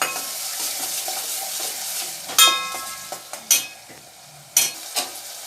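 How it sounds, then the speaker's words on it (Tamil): Onion, salt, ginger and garlic sauté in a hot pan with a steady close sizzle, punctuated by several sharp scrapes and clanks of a spoon stirring against the metal. "இஞ்சி பூண்டை போட்டுடலாம். போட்டு 2 நிமிஷம் வதக்கிக்கலாம்."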